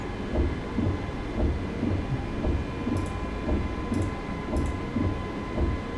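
Steady rain and low rumbling thunder in Microsoft Flight Simulator 2024, with a rhythmic throbbing beneath a constant hiss and a few faint high clicks, set around a sinking Alaskan fishing vessel.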